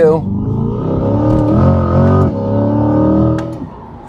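A C8 Corvette Stingray engine revving hard and climbing in pitch as it accelerates through the gears with some wheel slip, loud and close from inside the cabin, with a brief drop near the end.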